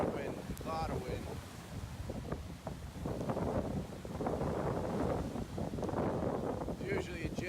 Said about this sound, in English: Real difficult, a lot of wind, a lot of wind.